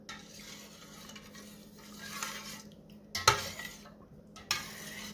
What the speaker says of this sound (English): Since my broth is still warm, it is stirring well together.